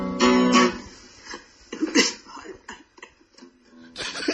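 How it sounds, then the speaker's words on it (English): A woman coughs in a played-back recording, a burst of harsh coughs near the start followed by a few quieter throat sounds and shorter coughs spread over a few seconds. "And she had to cough."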